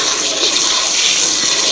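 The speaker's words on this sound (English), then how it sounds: "They're running a hose." Water rushes from a running hose, a loud continuous hissing splash close by with no pauses.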